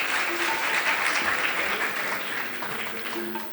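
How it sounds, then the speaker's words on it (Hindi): Audience at an Arya Samaj Mandir gathering in Model Town, Ludhiana applauds to welcome the chief guest, steady dense clapping from a crowd throughout, fading slightly at the end. "एक बार हम तालियां बजाकर उनका अभिनंदन करेंगे"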